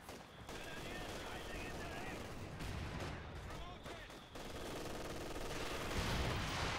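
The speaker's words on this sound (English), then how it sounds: "Stuka now opening fire." A Stuka opens fire during a Company of Heroes 2 battle, with rapid gunfire and explosions mixed into continuous battle noise. The sound is fairly faint and a commentator talks over it.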